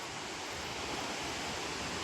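A waterfall at a forest resort in Nantou, Taiwan roars as a steady broadband rush of falling water, even and unbroken, heard alone without voices.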